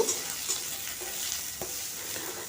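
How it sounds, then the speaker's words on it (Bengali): Onion and curry leaves fry in a pan, a steady soft sizzle with occasional light stirring scrapes, close and fairly quiet, with no talking. "পেঁয়াজ আর কারি পাতাকে খুব ভালো করে ভেজে নেব"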